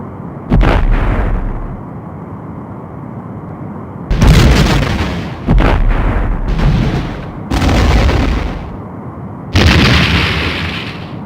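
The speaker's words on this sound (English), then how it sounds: "Torpedo away. Torpedo locked. Fire." Torpedo launches and explosions from a Star Trek: The Next Generation – A Final Unity starship battle against a Romulan warbird: a series of loud, booming blasts, each followed by a roaring decay, with a brighter whooshing burst near the end.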